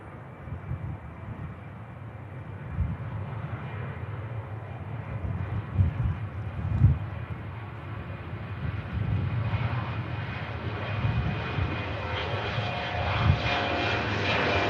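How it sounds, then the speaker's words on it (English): An Icelandair Boeing 757 departs Manchester Airport, its jet engines a loud, steady roar that builds and swells over about fifteen seconds with no voices present. "the beautiful 757 of Iceland Air should be departing"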